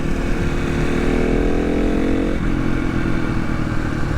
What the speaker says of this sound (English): I'm gonna get it out here and maybe get it up a little bit faster